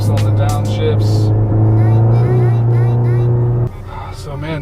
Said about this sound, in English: Nice little blips on the downshifts.